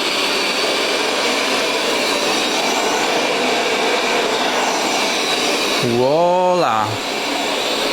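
A Roborock S7 Max V Ultra robot vacuum runs with a steady loud whir while mopping spilled milk, and a short voice exclamation near the end rides over the motor.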